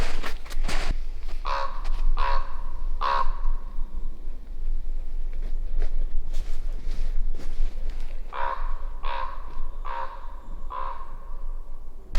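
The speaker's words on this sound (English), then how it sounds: "I don't know why the ravens always track me down and do a flyby" Ravens on a frozen northern trail give two runs of hoarse caws, about four calls each, fairly loud and close as they fly past over a low steady background rumble.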